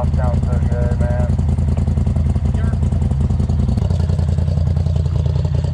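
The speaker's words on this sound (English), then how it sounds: "That exhaust sounds so good, man." Off-road vehicle engine idles and rumbles with a loud, low, steady exhaust drone close by, while people talk over it throughout.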